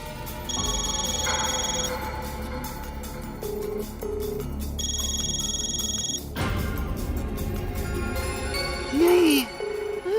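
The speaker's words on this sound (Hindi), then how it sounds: "फोन ही नहीं उठा रहे हैं। रिंग ही जा रहे।" A telephone rings repeatedly in a household scene, the call going unanswered, with ringing bursts recurring in a steady pattern over background music and other sounds.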